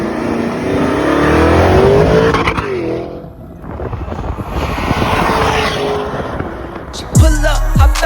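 Mercedes-AMG cars at an abandoned airstrip, loud nearby engines roaring and revving with tire squeal, a brief dip, then another hard rev and a sharp burst at the end.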